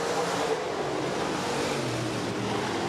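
Several USRA B-Modified race cars roar around the dirt oval at Rapid Speedway, a steady, loud, continuous engine drone with broadband noise and no audible voices.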